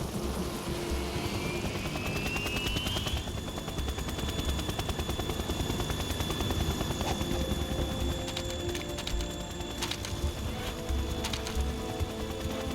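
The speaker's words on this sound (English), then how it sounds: "Russian choppers." Russian military helicopters in the video game Metal Gear Solid 2 tanker chapter, a steady rotor drone with bursts of gunfire-like clatter running throughout, loud and continuous with no talk.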